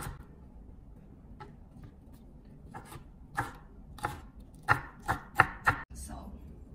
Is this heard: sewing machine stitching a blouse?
no